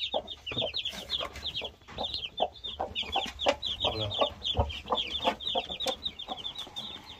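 Chickens cluck in repeated short bursts, fairly close, with louder, more insistent calls at points. The setting is a rooster keepers' yard in Namangan, home to a 28-time champion fighting rooster, and faint background voices sit under the calls.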